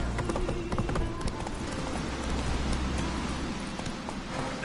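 Roach, Geralt's horse in The Witcher 3, trots with quick, even hoof clops over a steady ambient bed, with a faint voice in the background.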